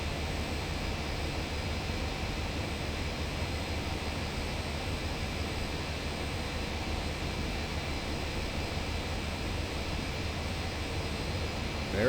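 Boeing 737 jet engines drone steadily during a climb in Aerofly FS 4, a constant, even broadband roar like a cabin heard from inside, unchanging throughout with no other sounds.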